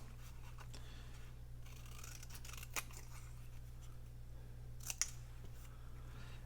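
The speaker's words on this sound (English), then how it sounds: "I'm going to snip the corners since I've got that little bit of white showing there" Scissors snip the corners of stamped paper in a quiet room, giving a few short, faint cuts spread across the clip, with a couple of crisper snips near the end.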